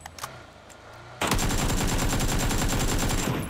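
Rapid automatic gunfire in PUBG erupts partway through, a loud sustained burst of rattling shots after a quieter stretch with faint background noise.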